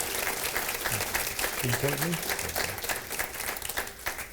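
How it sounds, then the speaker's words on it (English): Audience applause at a business event at the Capitol, a steady crowd clapping throughout while a speaker briefly talks over it. "Please give Joe a round of applause."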